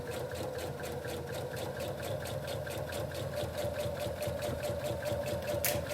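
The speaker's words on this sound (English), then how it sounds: "I'm just gonna start sewing here." A sewing machine stitching a fabric face mask, running steadily with a fast, even rhythmic needle chatter and motor hum, close and continuous for several seconds.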